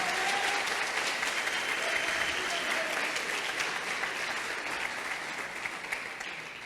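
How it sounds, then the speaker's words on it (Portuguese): A church audience applauds in praise, a loud, dense wash of clapping from many people that holds steady and slowly fades toward the end. "Aplauda Jesus"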